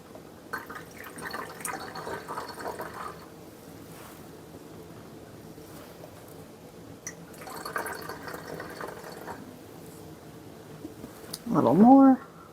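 Cleaning solution is poured into the tank of a Bissell Little Green ProHeat carpet cleaner in two separate splashing, gurgling bursts. Quieter stretches come between them, and a brief louder sound is heard near the end.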